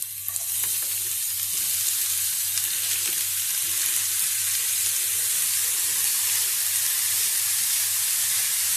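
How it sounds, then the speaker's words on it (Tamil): Grated carrot sizzles and fries in hot ghee in a pan, a loud steady hiss with faint stirring scrapes throughout, close and without talk. "நெய் சூடாயிருச்சு. இப்போ கிரேட் பண்ணி வச்சுருக்க கேரட்டை அதில் ஆட் பண்ணிக்கலாம்."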